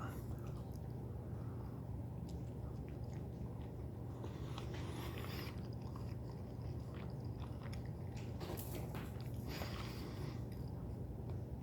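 Someone chews a peanut butter and jelly tortilla wrap from an MRE, producing soft, close, steady mastication with moist squishy bites over a constant low hum and faint background voices.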